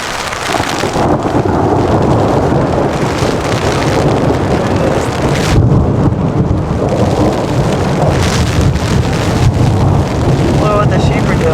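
Heavy rain and rolling thunder from a storm over open hillside in remote wilderness, a steady loud wash of rain with deep rumbles throughout; a person speaks briefly over it.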